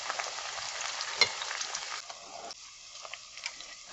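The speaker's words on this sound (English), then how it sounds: "Then we'll add our garlic and ginger in here. And we're just going to saute this for 2 to 3 minutes." Garlic and ginger sauté in a pan with a soft, fairly quiet sizzle, one sharp clink near the start and a few light stirring scrapes, fading slightly toward the end.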